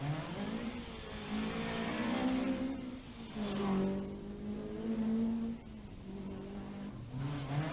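Rally car screaming along a stage of the 1984 Killarney Rally of the Lakes, engine revving hard and rising and falling through gear changes as it passes close and loud.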